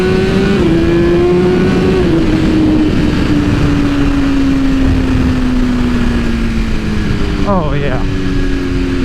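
A 2022 BMW S1000RR superbike with a Stage 2 tune and a smaller rear sprocket pulls hard under full acceleration. Loud engine roar climbs steadily through the revs, close and continuous, while a brief voice speaks near the end.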